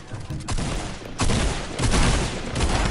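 Fortnite gunfire from a video game crackles as dense, loud bursts of shots and booms, one burst after another, with no talk.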